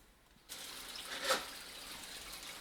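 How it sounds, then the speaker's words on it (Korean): Water gushes and runs continuously from a freezer drain hose after an icy blockage, starting abruptly and flowing steadily with a brief louder splash, faint and slightly distant. "물이 안 넘어가고 다 흘러 넘쳐요"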